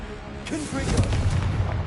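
A Confringo blasting spell goes off in the video game Hogwarts Legacy: sharp booms and crackling blasts hit in quick succession, loud and close, with a voice speaking over the action.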